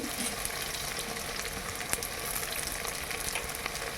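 Chopped onions and garlic fry in a pan for a chicken chaap, a soft, even crackling sizzle that runs steadily throughout with no talk over it.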